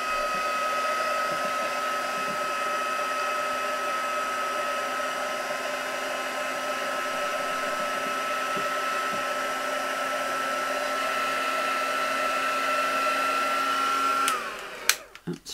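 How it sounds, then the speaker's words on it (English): A handheld dryer blows steadily on a paper craft spread being dried. It gives a continuous, even whoosh for about fourteen seconds, then clicks off with a few handling knocks. "So I'm just going to dry that just a little bit."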